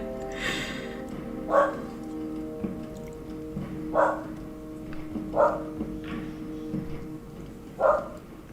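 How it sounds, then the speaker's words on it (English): A golden retriever barks indoors in short single woofs spaced a second or two apart, moderately loud over a steady low background hum, with no talking. "there goes my golden retriever again. Still got the little noisy one. She's barking at someone who's breathing"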